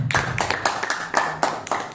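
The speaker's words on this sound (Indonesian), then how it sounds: "Tepuk tangan buat kita semua." A class of students clapping hands in a classroom, producing rhythmic bursts of close, crisp claps in roughly regular groups over a couple of seconds.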